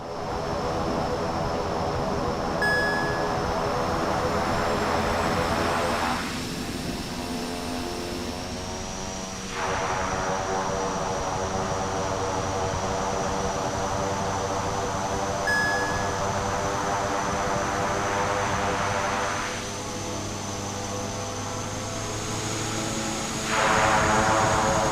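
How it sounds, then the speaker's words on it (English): Propeller airliner in Microsoft Flight Simulator 2024 roaring in reverse thrust, a loud steady engine drone with a high whine, surging and easing in waves over a sustained stretch with no talk. "let me turn up the audio here because this is some sweet reverse thrust going on."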